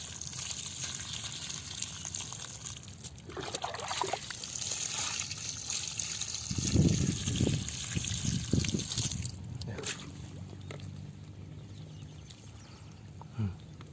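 Water trickles and splashes steadily over shallot plants and soil, close by, with a gentle continuous pour that swells briefly in the middle.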